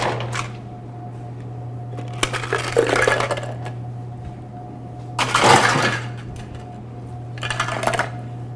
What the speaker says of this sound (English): Now we're going to actually add the ice component.